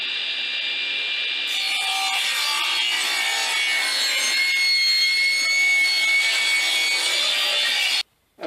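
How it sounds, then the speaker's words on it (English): A saw rips wood lengthwise to width with a loud, continuous whining rasp, then stops abruptly near the end. "Before I drill the two halves out, I'm going to rip them to their final width"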